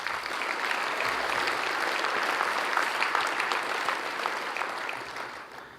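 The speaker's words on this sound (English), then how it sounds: "A big round of applause." Sustained applause from a large audience at a city State of the City address, steady and dense for the whole stretch with no talk over it.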